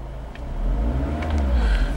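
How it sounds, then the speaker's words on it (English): 2015 Scion tC engine revving, a low engine rumble rising in pitch and loudness as the throttle opens, close and alone. "Keep an eye on the tachometer and rev the engine."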